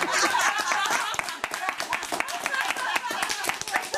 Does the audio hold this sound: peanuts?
no